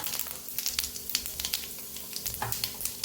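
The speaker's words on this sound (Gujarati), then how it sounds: "અહીં આપણું સરસ તેલ ગરમ થઈ ગયું છે તો એક ચમચી જેટલું આપણે જીરું ઉમેરશું" Cumin seeds sizzle and crackle in hot groundnut oil while a vegetable dish is started, giving close, steady frying hiss with sharp pops scattered throughout.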